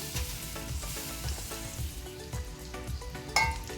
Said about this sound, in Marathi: नंतर त्यात मुरमुरे घालून घ्यायचे